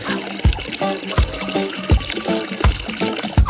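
Plain water pours and trickles into native chicken feed as it is mixed, close up, with soft rhythmic thuds repeating about every half second and no voices.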